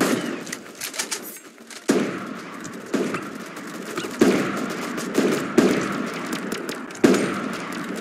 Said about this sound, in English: Actually, I should practice my shot with a sniper rifle.